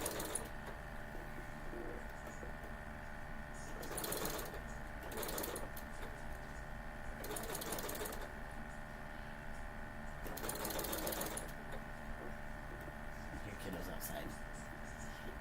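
A serger overlock sewing machine whirs in several short bursts of stitching separated by pauses, close by and fairly quiet.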